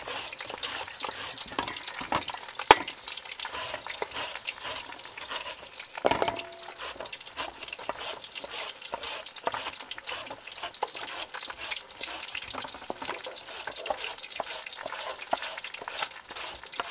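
Red tilapia pieces deep frying in hot oil, a steady crackling sizzle running throughout, with occasional stirring and utensil clinks layered on top and no voices.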